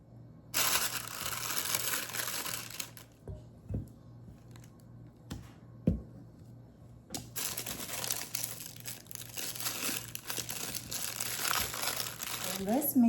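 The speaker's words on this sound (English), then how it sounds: "Now we're going to place this in a piping bag." Thick frosting for chocolate-dipped strawberry cupcakes is spooned into a plastic piping bag, giving close, irregular crinkling and rustling bursts with a few short pauses.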